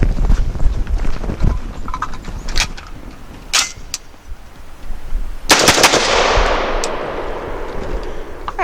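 A Genesis Gen-12 AR-10-style 12 gauge shotgun firing Rio 8 shot 1 1/8 ounce loads outdoors, with several sharp loud blasts spaced a few seconds apart and a long echoing tail after the biggest shot, and no talk.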